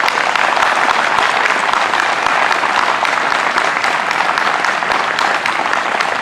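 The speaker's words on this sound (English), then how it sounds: "I hope everyone will join me in a round of applause for all of our candidates tonight." Sustained audience applause at a League of Women Voters candidate forum for Minnesota House 20A and Senate 20, steady and dense across the whole stretch with no break.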